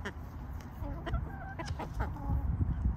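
A small backyard flock of four chickens, including a rooster, clucks and murmurs close by at dusk, with soft repeated clucks and short calls over rustling movement.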